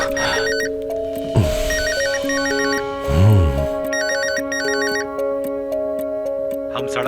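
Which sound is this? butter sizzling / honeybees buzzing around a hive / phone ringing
phone ringing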